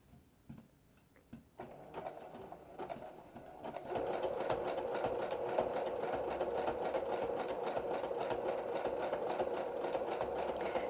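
A sewing machine stitching a crazy quilt block at a 4.5 stitch width, starting with a few short hesitant runs and then settling into a steady, continuous fast whir with an even mechanical rhythm.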